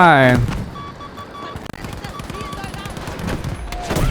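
Battlefield V gunfire crackles in steady rapid bursts through the fight, while someone talks excitedly over the shooting.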